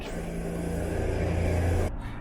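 A Ferrari engine hums steadily up close, building slightly in pitch as it pulls away, then cuts off abruptly near the end.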